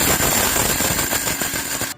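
A mixer grinder runs loud and close, whirring with a rapid rattling clatter as roasted tempering spices are coarsely ground for ridge gourd chutney, then cuts off abruptly at the end.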